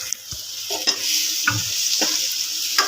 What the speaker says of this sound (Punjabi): ਹੁਣ ਆਪਾਂ ਇਹਦੇ ਵਿੱਚ ਪਾ ਲਾਂਗੇ ਆਲੂ ਤੇ ਆਪਾਂ ਉਬਾਲੇ ਸੀਗੇ